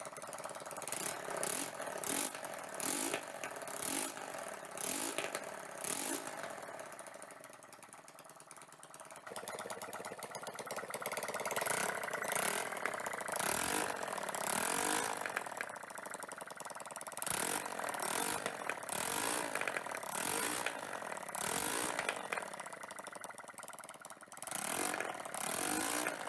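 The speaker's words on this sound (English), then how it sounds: "we can give it some revs and adjust the idle and see how she runs" A homemade V-twin engine, slightly leaking oil, idles with a quick uneven chugging and then revs up in rising blips before settling again, loud and close with a rattly mechanical edge and no voices.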